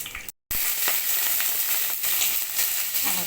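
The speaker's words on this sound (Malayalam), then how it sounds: "ഉണക്കമുളക് മൂക്കുമ്പോൾ" Dried red chillies sizzle steadily in hot oil with fenugreek and mustard seeds as part of a tempering: a dense, close frying hiss that cuts out for a split second near the start, then carries on evenly.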